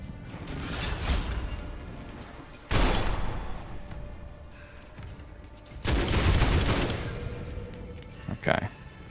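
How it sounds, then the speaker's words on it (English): In the video game Witchfire, a shotgun blasts through a pack of zombies, with two or three heavy, booming shots spaced several seconds apart, each with a long rumbling tail, mixed with game mechanisms and a voice talking. "We're just gonna blast through them with my shotgun."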